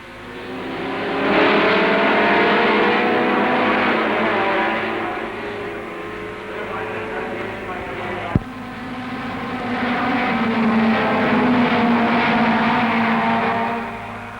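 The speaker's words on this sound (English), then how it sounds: "Now for the start of the Formula Junior race" A pack of 1961 Formula Junior single-seater race cars roars away from the start, engines blaring loud and sustained, dipping briefly with a sharp click midway before swelling again; no voices.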